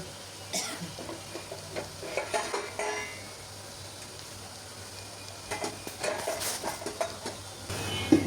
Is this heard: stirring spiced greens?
yes